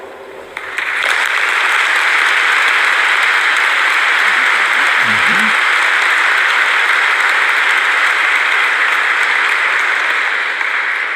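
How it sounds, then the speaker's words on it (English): Loud, sustained applause from a big crowd at a high school commencement swells in after a moment and continues steadily, a dense wash of clapping with no talk over it. "I think they deserve a round of applause."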